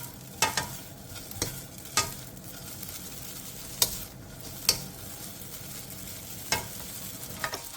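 Dried pollock strips stir-fried in an oiled pan over medium heat give a soft, steady sizzle, broken by several sharp scraping clicks of a utensil against the pan at irregular intervals.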